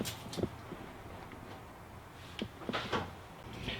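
A few short wooden knocks and sliding scrapes, like a cabinet drawer in a Grand Design Solitude 385GK fifth-wheel RV opening and shutting nearby, with quiet room tone between them.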